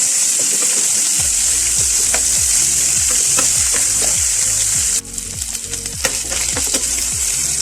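Pork stir-fried in a hot pan for a cucumber-and-pork dish, loud steady sizzling with rhythmic scraping strokes of a spatula, a brief sharper burst of hiss midway as the pan heats up again.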